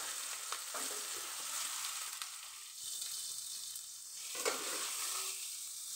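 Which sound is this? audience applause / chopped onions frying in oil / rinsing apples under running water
chopped onions frying in oil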